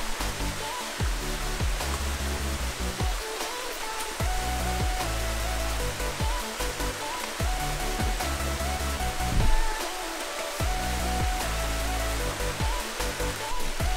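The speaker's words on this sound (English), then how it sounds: "third waterfall" Steady, full roar of a waterfall on the Ka'au Crater Trail, Hawaii, rushing close by, constant and broadband throughout with no pauses.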